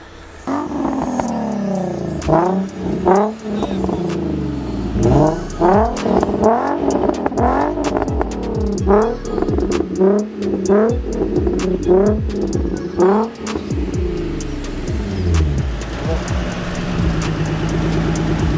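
A Nissan 350Z engine revs hard over and over in sharp bursts, loud and close, with a throaty roar that rises and falls repeatedly.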